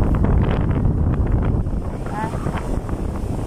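Strong seaside wind roars steadily into the microphone as a storm arrives at a river mouth, loud and gusty throughout.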